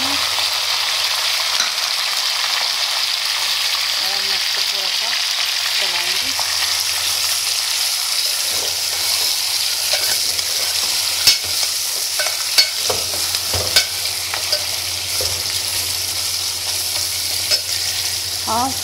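Mutton pieces added to browned onions sizzle and fry steadily in a hot pan for a Lauki gosht dish, with a spoon stirring and scraping now and then, close and continuous with no talking.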